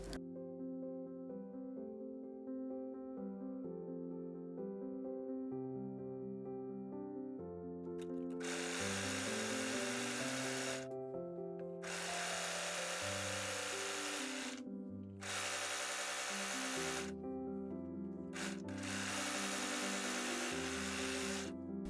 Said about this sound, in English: Overlock the side seams of the ruffle pieces.